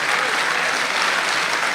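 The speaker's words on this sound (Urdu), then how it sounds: "حافظ بھائی کے لیے تالیاں بجائیں" A mushaira poetry audience in Dubai claps steadily, a dense and even wash of applause from a large crowd that holds at full strength throughout.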